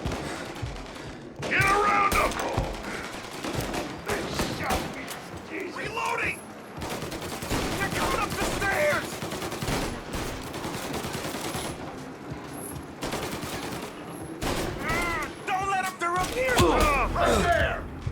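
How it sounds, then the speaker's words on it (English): Sustained gunfire from a Mafia Definitive Edition shootout, bursts and single shots cracking throughout under frequent shouted voices. "They shot me!"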